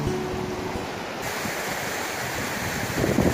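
Strong water rushing through a river narrows, a steady broadband roar of current with wind buffeting the microphone, loud and continuous with no voices.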